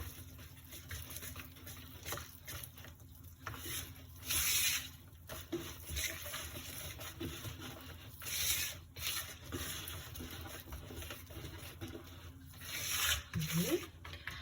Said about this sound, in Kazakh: Енді мынаны жақсылап араластырып аламыз.